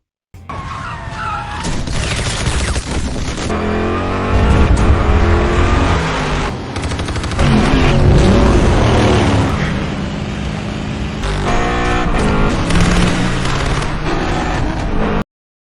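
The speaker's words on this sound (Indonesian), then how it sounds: "mereka diserbu peluru dari mobil-mobil sekelilingnya" An action-film car chase roars on at full loudness, with revving engines, skidding tyres, crashes and gunfire bursts layered densely together without letup.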